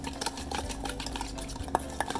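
A spoon stirs a thick homemade sesame miso sauce in a bowl, a steady close scraping with a couple of sharper clinks near the end, no voices.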